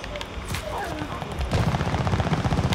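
Gunfire in Call of Duty: Vanguard on Xbox Series X starts with a few scattered shots, then turns into a rapid sustained automatic burst, loud and close, while a voice talks over the opening.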